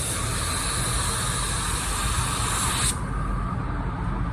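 Porphis PRD 815 paint sprayer spraying sealer, a loud steady hiss of atomized spray that cuts off sharply near the end, leaving a duller background drone.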